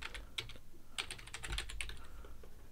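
Rapid typing on a computer keyboard while naming a new folder, close, steady key clicks over a low background hum, no voices.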